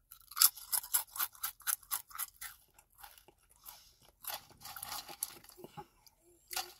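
Kettle Brand Backyard Barbeque kettle-cooked potato chips are crunched fast and close, a rapid run of crisp, loud bites that thins into a few scattered chews, with no talking.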